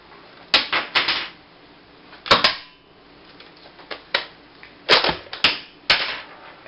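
A Buzz Bee Air Blaster toy gun being worked, sharp plastic clicks and snaps in clusters, each followed by a light clatter as a shell casing ejects and drops, close and crisp over quiet room noise.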